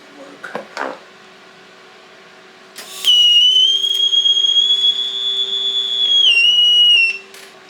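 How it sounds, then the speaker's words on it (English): A TIG welder running on DC gives a sustained high, thin electrical whine that starts abruptly after a few faint knocks, holds steady for several seconds, dips slightly in pitch, then cuts off. "my TIG welder is a little bit noisy on DC"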